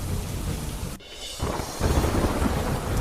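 Heavy monsoon rain pours steadily in Hadmatiya village near Rajkot, a dense loud hiss with a deep rumble of thunder beneath it and a sudden shift in the roar partway through.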